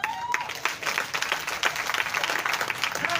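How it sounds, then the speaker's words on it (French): Lively audience clapping during a stand-up comedy night, steady and fairly close, with many hands striking in quick succession throughout. "Applaudissez pour Flobby"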